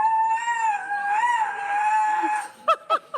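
A tiger at a Russian zoo imitates bird calls, giving a sustained, harmonic, wavering cry that ends in three short sharp bursts.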